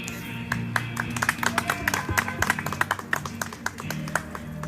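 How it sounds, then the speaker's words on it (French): Scattered hand claps from a small crowd at an outdoor demonstration supporting political prisoners, irregular and fairly close, over a steady low murmur and background noise. "Il faut applaudir."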